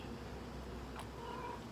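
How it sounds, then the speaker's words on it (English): A stray cat gives a single faint meow midway through a quiet stretch of low background hum, with no voices present. "Oh man, there's this stray cat."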